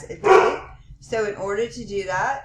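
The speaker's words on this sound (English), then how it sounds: "Sorry for the dogs." Dogs bark in the background of a room while a person talks steadily over them, a burst of yapping at the start followed by a voice that dominates the rest.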